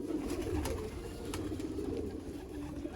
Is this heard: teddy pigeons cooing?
yes